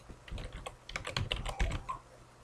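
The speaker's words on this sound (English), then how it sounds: "I'm gonna type in the last interest here." A computer keyboard being typed on in a quick burst of close, crisp key clicks for about two seconds, with no talk over it.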